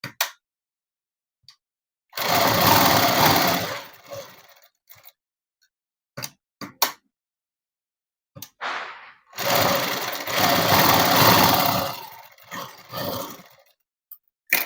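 Sewing machine stitching net cloth for a dress, two loud close runs of rapid mechanical whirring separated by pauses with brief clicks and handling sounds.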